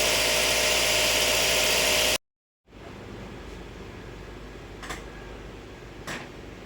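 A Ford Focus with about 93,905 km has a worn, noisy air conditioning compressor running with the engine idling. It makes a loud broadband roar that cuts out, then a steadier hum with occasional ticks.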